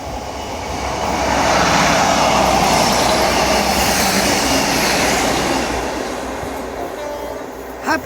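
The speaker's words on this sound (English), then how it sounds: "And there's my train, yay!" A train passing along the coastal railway at Teignmouth in torrential rain: a steady, loud rumbling roar with rattling wheels that swells over a few seconds and slowly fades, heard close by.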